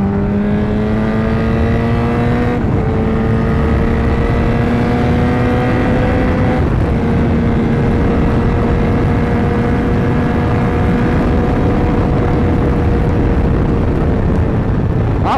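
Honda CBR 1000 motorcycle engine accelerating steadily, its rising harmonic drone climbing through gear changes at about 2.5 and 6.5 seconds, loud and close with constant wind rush and no talk.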